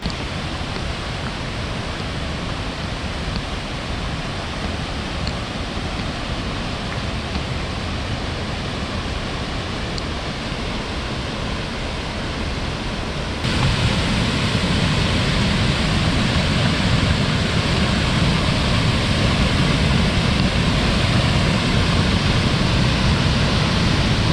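Valley Falls State Park waterfall in West Virginia after days of heavy rain, a steady close roar of rushing water with no break that grows louder partway through.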